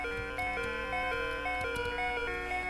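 Steady, rapidly repeating electronic beeps of the low-health alarm in the Game Boy game Pokemon Yellow, sounding continuously over looping chiptune battle music without talk.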